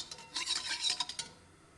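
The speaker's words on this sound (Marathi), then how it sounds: "तूप चांगलं वितळलं की त्याच्यामध्ये आता मी पहिलं टाकून देणार आहे काजू बदाम." Cashews and almonds dropped into melted ghee in a pan give a short burst of bright crackling and sizzling lasting about a second, close and fairly quiet, with no voices.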